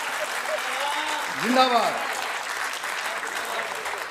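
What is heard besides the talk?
audience applause at a Hindi poetry show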